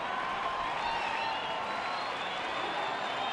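A big baseball stadium crowd at an Angels home game against Texas roars and cheers without letup after Mike Trout's bases-loaded RBI triple in the sixth inning. The noise is loud, dense and sustained across the whole stretch, with no individual voices standing out.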